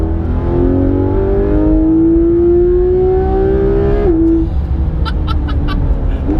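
A Porsche 991 GT3 RS engine revs hard while driving, its loud, rising flat-six wail climbing steadily through the gear before a brief shift, heard from inside the car with road rumble beneath.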